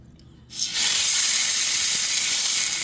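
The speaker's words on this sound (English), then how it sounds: "So now I'm gonna put my lamb in my cast iron pan" Lamb dropping into a hot cast iron pan: after a moment of quiet, a loud sizzling hiss bursts up and holds steady and close, with no talking.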